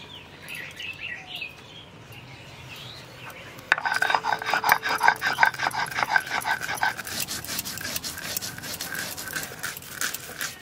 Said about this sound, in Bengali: তা আমি সর্ষে আর পোস্তটা বেটে নেবো।